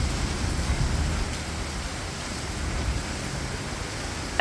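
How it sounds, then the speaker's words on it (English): Heavy summer rain pours down in a steady, dense wash of noise that fills the whole stretch, with no voices over it. "it has been pouring down with rain all day"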